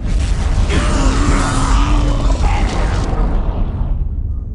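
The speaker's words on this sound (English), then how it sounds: "On my command, fire the Titan cannon." A Titan cannon discharges in the Warhammer 40,000 video game Dark Crusade, making a loud, dense roar of booming explosions and mechanical rumble that holds for about three seconds before cutting off into a brief fading tail.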